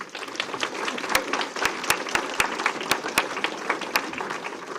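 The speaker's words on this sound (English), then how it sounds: "Give them a round of applause" Audience applause for a county leadership committee at a civic event unveiling a 20-year community vision, a dense steady patter of many hands with a few sharp louder claps standing out, sustained throughout at moderate distance.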